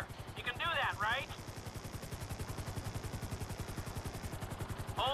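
Helicopter hovering in GTA V, its rotor giving a steady rapid thumping chop that runs throughout at moderate loudness, with talk in the game layered over it.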